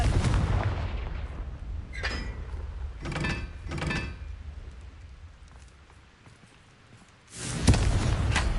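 Confringo fire spell blasts in Hogwarts Legacy, loud booming explosions with crackling bursts, a heavy rumble at the start, several sharp blasts in the middle and a final big boom near the end.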